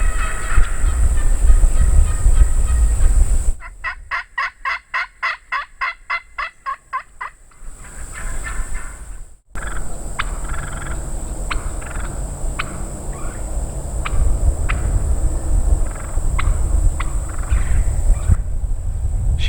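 A wild turkey hen calls loudly from the timber along a pipeline during a spring hunt, sending a rapid run of sharp repeated yelps mid-clip, followed by scattered clucks over a constant background hiss.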